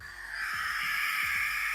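An Australian bird calls out of tall grass in a harsh, eerie run of repeated low hoots and croaks over a steady high hiss of insects or wind, fairly close and with no talk.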